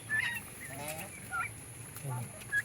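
Geese honk in short nasal bursts a few times, fairly close, with quiet farmyard background.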